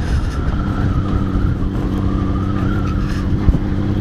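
Car rolling over a rough, uncomfortable road, a steady loud rumble of engine and tyres with small jolts and one sharp bump near the end, no talk.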